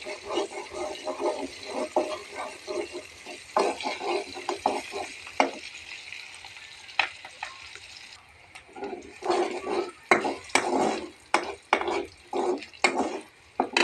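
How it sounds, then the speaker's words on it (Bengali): Onions are fried and stirred in a pan, with a soft sizzle beneath irregular scraping strokes that grow louder and more rhythmic in the second half, and no speech. "পেঁয়াজটা প্রায় আমার ভাজা হয়ে গেছে"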